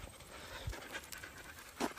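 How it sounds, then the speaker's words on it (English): A dog pants steadily on a morning walk outdoors, quick rhythmic breaths close by, alone without talk over light outdoor background noise. "I'm just taking the dogs for a short walk here this morning"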